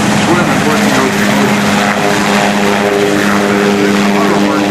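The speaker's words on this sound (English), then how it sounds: "flying it back and forth to show you the maneuverability of this helicopter" An SH-3 Sea King helicopter hovers at a naval air station airshow, its loud steady rotor and turbine drone filling the air while an announcer talks over it.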